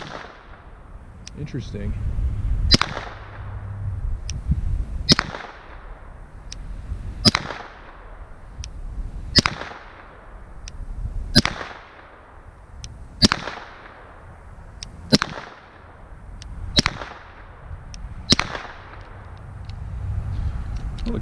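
Federal 115 grain 9mm supersonic rounds fire in a string of about ten sharp, loud cracks spaced roughly two seconds apart, each with a short echoing tail outdoors.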